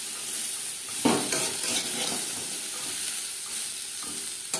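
Drumsticks and bitter gourd stir-fried in a pan for a bitter lentil dish, with a steady soft sizzle and occasional scraping stirs of a spatula against the pan, close and unaccompanied by talk.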